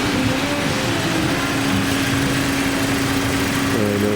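A Toyota Corolla engine idles with its scroll A/C compressor running, a steady close mechanical drone with a constant hum. A slight change in tone comes near the end.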